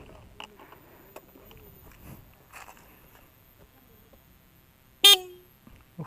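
A 2020 Yamaha Aerox 155 scooter horn gives a single short, loud honk near the end, following a stretch of quiet handling clicks and light background noise.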